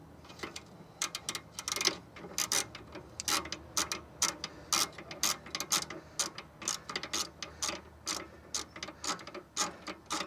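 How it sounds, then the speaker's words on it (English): A socket wrench ratchets a sway bar link bolt loose, giving a long run of quick, close mechanical clicks in bursts over steady workshop background. "I'm going to just get a socket on there and just take it off with a socket"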